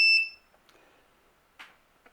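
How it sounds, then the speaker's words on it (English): A short, sharp beep from a motion-triggered electronic buzzer at the start, followed by a few faint clicks and soft taps in an otherwise quiet room. "both the LED and the buzzer comes on when it detects motion"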